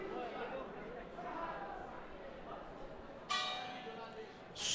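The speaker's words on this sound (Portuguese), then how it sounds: "Soa o gongo." A ringside bell at a women's K-1 kickboxing bout rings out loud and sharp near the end to close the first round, followed by a second strike right at the close, over steady crowd murmur and chatter.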